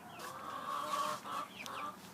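Backyard chickens, including a red star hen, clucking faintly at a distance in a low, continuous murmur with a couple of brief squawks, no voices.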